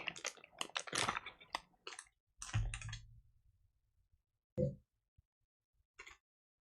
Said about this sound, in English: I'm giving my keyboard a clean